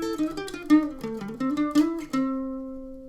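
Guitar playing a country solo lick with hammer-ons, pull-offs and slides, a quick flurry of connected notes ending on a sustained ringing note, solo and close.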